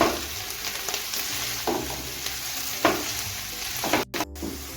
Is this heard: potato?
yes